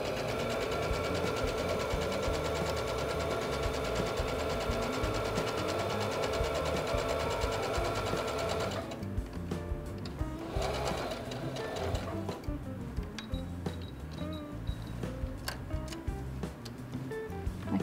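A sewing machine stitching a fabric hem, running in a fast, steady mechanical chatter for about nine seconds, then stopping and starting in shorter bursts with ticking clicks, close and fairly loud.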